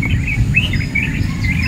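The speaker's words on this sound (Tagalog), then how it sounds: "Mga ibon, no?" Birds chirping outdoors in the dark before dawn, bright tweets and trills repeating over a steady low rumble of background noise.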